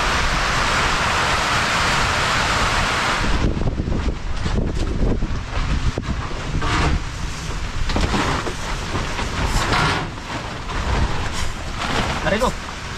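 Strong typhoon wind from Julian buffets a farm hut, roaring hard into the microphone for the first few seconds, then gusting unevenly with rumbling buffets and faint voices beneath.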